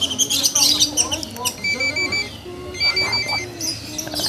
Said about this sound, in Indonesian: Ya, bos telepon tuh.